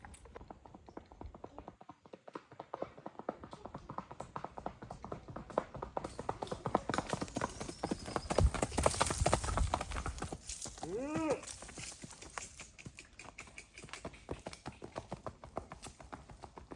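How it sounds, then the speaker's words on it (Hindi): A young mare in training clip-clops on a farm, her hooves striking in a steady, close rhythm throughout, with a brief whinny partway through and faint voices in the background. "ये भरत भाई की घोड़ी"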